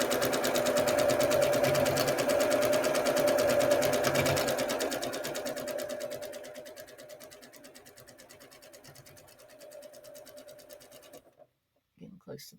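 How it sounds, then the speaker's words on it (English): A sewing machine stitches quilt blocks together in one continuous run, loud and close at first, then slowing and quieting before it stops, with a brief handling sound at the end. "and then I sew"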